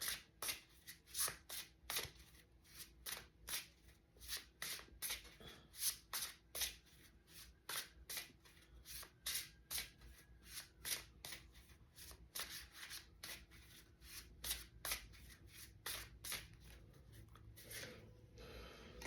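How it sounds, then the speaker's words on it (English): Tarot cards being shuffled by hand, a fast steady rhythm of crisp riffling flicks repeating close up for the whole stretch, with no talking. "1, 2, 3, 4, and 5 cards for Scorpio"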